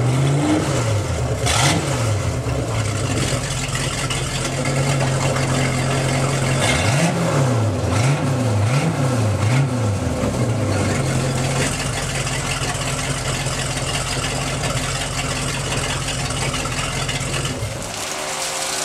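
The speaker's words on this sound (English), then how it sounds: "That's with the new exhaust system." A boat engine fitted with a Corsa Captain's Call side exhaust revs loud and close, blipping the throttle in repeated rising and falling surges over a steady idle rumble, then settling back to idle near the end.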